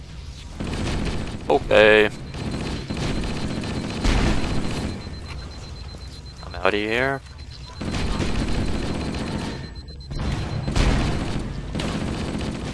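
Gunfire and explosions rattle through a Halo: Combat Evolved firefight, with repeated bursts and booms around a loud descending whoosh, while a person talks over the action.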